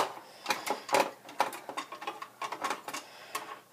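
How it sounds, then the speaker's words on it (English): A Phillips screwdriver turning screws inside a Dell Optiplex GX745 computer, giving close, rapid ratcheting clicks and scrapes in uneven bursts with no talking. "just screw those screws back in, make sure it's lined up like mine is"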